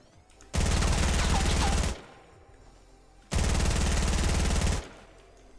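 A P90 submachine gun in Fortnite fires two long, loud sustained bursts of rapid automatic fire, each lasting over a second, separated by a short quiet pause.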